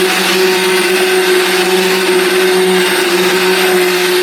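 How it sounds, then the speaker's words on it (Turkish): A loud, continuous blender motor whirring steadily with a constant hum as it purees lentil soup with potatoes and onions, running nonstop from start to finish. "Patatesleri ve soğanları çok iri doğradığımız için blenderdan geçiriyoruz."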